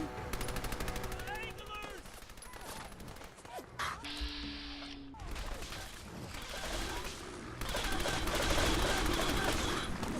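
Automatic gunfire from an explosive-rounds SMG in Fallout 4, rapid continuous bursts with crashing impacts, mixed with game sounds and occasional voices.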